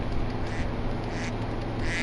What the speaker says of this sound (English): Them ducks are tough